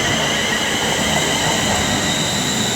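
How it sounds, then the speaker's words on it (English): Train 35125 passes on the West Coast Main Line toward London Euston, a loud, close roar of rolling wheels and rail noise that stays continuous throughout. "35125 is leading in the service to London Euston."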